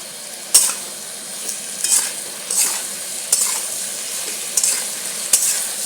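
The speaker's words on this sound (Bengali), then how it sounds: "এটাকে আমি তিন মিনিট ধরে ভালো করে কষেছি" Spice masala with chilli powder and milk being stir-fried in a pan for a fish curry with papaya and ridge gourd: a low steady sizzle broken by about six sharp metal scrapes of a spoon against the pan, close and without talk.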